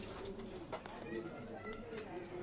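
A Kaldum pigeon in a loft gives soft, repeated cooing, faint and close, with people talking over it.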